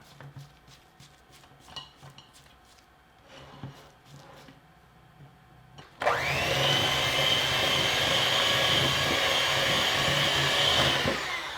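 After about six seconds of scraping and light clatter in a bowl, an electric mixer starts up loud and close, whirring steadily as it beats monster cookie dough of butter and brown sugar.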